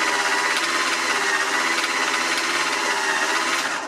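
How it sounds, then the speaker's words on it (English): A homemade turntable's motor running loudly, a steady close mechanical whir with a buzzing rattle, continuous for about four seconds before tapering off. "Oh yeah, the motor's really loud too."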